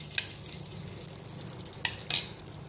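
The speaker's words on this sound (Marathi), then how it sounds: "तुपावरती आधी आपण भाजून घेऊ" Thin homemade vermicelli roasting in ghee, with a steady soft sizzle and a few spoon scrapes as it is stirred, close and moderately quiet.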